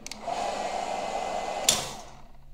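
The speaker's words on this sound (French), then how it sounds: "Voilà, donc là, j'ai mis le sèche-cheveux, mais en mode chaud." Hair dryer running on hot mode, powered by a Bluetti AC70 portable battery: a steady whooshing fan roar that starts abruptly, holds level, then winds down after a click near the end.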